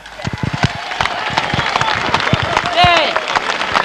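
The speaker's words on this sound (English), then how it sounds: "Round of applause for Fred, Anita Lees and their office staff." A stadium crowd at a 1990 rugby league match at Old Trafford gives a round of applause, scattered claps in a broad roar with a voice talking over it.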